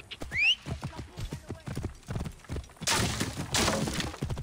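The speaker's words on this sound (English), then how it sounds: "That's the Pharaoh's horse I got for winning all the tournaments." A horse gallops in Assassin's Creed Origins, a Pharaoh's horse ridden over open ground, with quick hoof clip-clops and a brief whinny near the start, then a loud burst of rushing noise toward the end.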